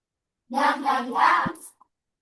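Children in a primary school classroom chant together in a short burst of rhythmic voices with a sharp clap near the end, then stop.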